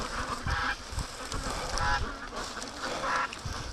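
A goose honking an alarm call beside a creek, several loud nasal honks in a rough rhythm over a noisy outdoor background with other fowl.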